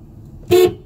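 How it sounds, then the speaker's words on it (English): A single short car horn honk, loud and close, sounds once against a quiet background. "Why would you honk the horn?"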